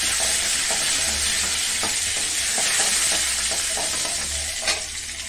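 Curry leaves and urad dal fry in hot oil for a poriyal, giving a steady close sizzle with scattered crackles and soft stirring knocks throughout, loud and unbroken with no talking.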